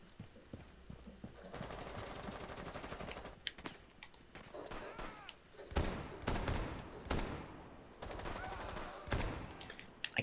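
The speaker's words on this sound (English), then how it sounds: "I keep shooting my own teammates" Rapid automatic gunfire from a Rainbow Six Siege match, several bursts of sharp, dense shots spread across the clip alongside other in-game effects, close and loud, with faint voice chat in the background.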